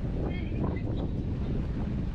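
Wind blows steadily over the microphone aboard a sailboat at sea off the French Atlantic coast, a low constant rush and buffeting, fairly faint, with no voices.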